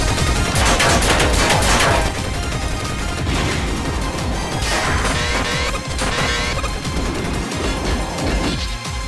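Butt cannons on Astro Boy firing during an animated fight, a dense barrage of crashing, rapid-fire blasts and impacts that stays loud and continuous for several seconds.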